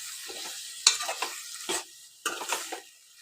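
Prawn and tomato curry cooking in a pan with salt, heard as bursts of sizzling and stirring scrapes in several close, separate clusters with quiet gaps between, no talking.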